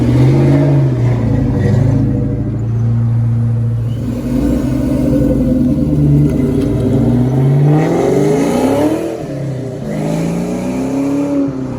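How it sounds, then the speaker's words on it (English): Modular V8 engine in a 1979 Ford Mustang pace car with T-tops off, heard from inside on a drive: a loud, steady engine drone that rises and falls through gear changes and revving, continuous with no talk. "I'm going to go take this modular powered 79 pace car for a ride and have some fun."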